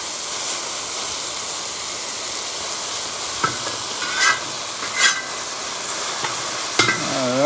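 Moo goo gai pan stir-frying in a very hot cowboy wok, a steady loud sizzle and hiss throughout, broken by several metallic scrapes and clanks of the spatula against the wok.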